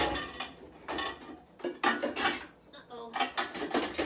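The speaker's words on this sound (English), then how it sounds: "I'm gonna put the pans in here." Pans clatter and scrape as they are slid into a kitchen cupboard, a close series of metallic clanks and rattles with brief pauses between the knocks.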